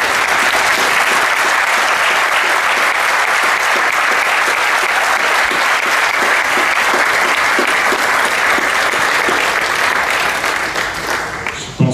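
Sustained, dense applause from a large outdoor crowd at the inauguration of the A9 Charles Trenet motorway, steady and loud for the whole stretch before tapering slightly at the end.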